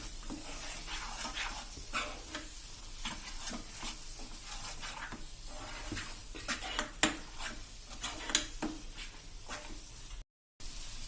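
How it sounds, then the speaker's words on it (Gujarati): A spoon stirs masala spices into onion chutney paste in a pan, giving repeated scraping and squelching strokes with a faint sizzle, close and fairly quiet. "તો આ રીતે હવે એને આપણે મિક્સ કરી લેશું સરસ મસાલો અને આ બધી પેસ્ટ"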